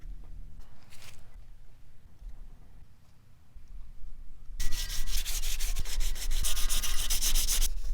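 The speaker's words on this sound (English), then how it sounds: "I keep sanding through the dash material trying to sand the" Hand sanding of filler and primer on a fragile AE86 car dashboard, starting with faint scattered rubbing, then a loud, steady, close-up rasping scrub in rapid strokes for the last few seconds.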